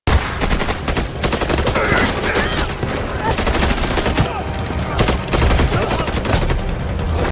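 Dense rapid gunfire from a film gunfight between attackers and U.S. Marshals on a road, with loud overlapping bursts and repeated volleys that continue almost without pause.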